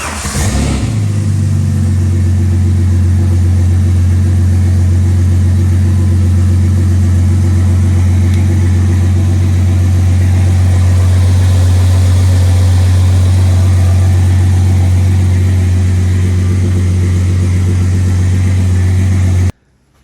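A 1995 EF Ford Falcon with a turbocharged 4.0L Intech six cranks and fires up, then settles into a loud, steady deep idle held for about twenty seconds before shutting off abruptly.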